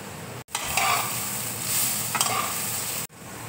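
Green chillies are stir-fried with beetroot, carrot and potato in a pan, giving a steady close sizzle with a couple of swelling stirring scrapes, cut off sharply at both ends.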